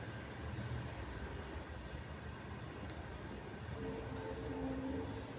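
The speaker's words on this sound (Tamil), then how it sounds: "பக்கத்தில் ரயில் போகுது, அந்த சத்தம் வருது." A steady, distant rumble of a passing train fills the whole stretch, broad and continuous with no voices.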